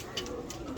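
Pigeons kept by a fancier coo softly in short repeated calls over steady background noise, fairly close by, with no one talking over them.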